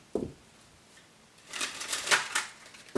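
A short flutter of tarot cards riffling together, preceded by a single light tap, rustles crisply at close range with no talking.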